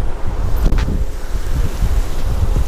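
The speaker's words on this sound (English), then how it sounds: "it is extremely, extremely windy right now" Strong wind roars loudly and steadily across the microphone beside a lake in volcanic mountains, a continuous rumbling buffet with gusty swells and no speech.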